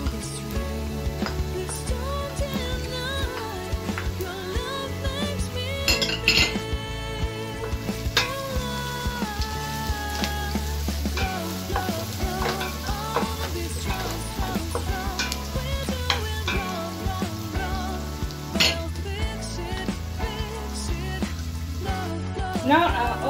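Garlic and ginger are added to onions frying in a pan for a mixed rice dish, a steady sizzle running under background music and a voice talking.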